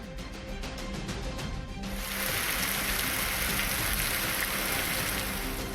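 Rain falls steadily across districts of Tamil Nadu, a dense, even hiss of drops that thickens and grows louder partway through, with no voices heard.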